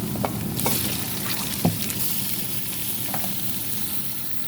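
Chicken meat, about a kilo, fries with spices in a karahi, a continuous close sizzle broken by a few scraping stirs and one louder knock of the spoon, with no talking.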